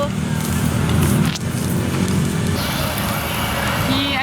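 Steady engine rumble and road noise inside a city bus in Surabaya, a continuous loud drone with some faint background chatter.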